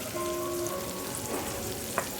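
Pointed gourd pieces fry in oil in a pan with a steady, even sizzle and a faint background hum, ending with a small clink.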